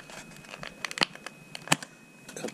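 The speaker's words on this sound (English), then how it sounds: "Cut the little tape out." Tape on a Western Digital 2TB WD Green SN350 NVMe SSD package is cut and pulled, giving close, sharp snips and tearing crackles in uneven bursts at low volume.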